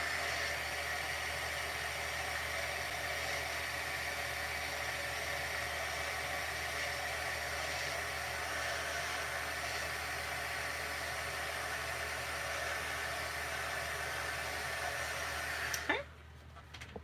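Heat gun heat-setting alabaster embossing powder, a steady loud blowing whoosh held for most of the stretch, then cutting off near the end with a brief clatter.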